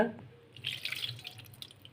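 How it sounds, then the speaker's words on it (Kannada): Water drips and trickles into wheat flour being mixed, a few soft splashes and droplets close by against a quiet background hum. "ಒಂಚೂರು ನೀರು ಸೇರ್ಸಾಗ"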